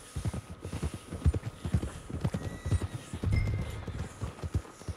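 Horse hooves walking on a path in Red Dead Redemption 2, a steady close plodding rhythm of hoofbeats, moderately loud with a brief shuffle near the end and no talk.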